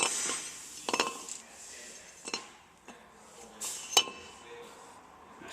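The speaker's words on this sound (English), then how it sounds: "See how the rotor comes off like that." Brake rotor being pulled off the hub of a 2005 Honda Accord: scattered metallic clinks and scrapes, with sharper knocks near the start and again a few seconds later, at moderate distance.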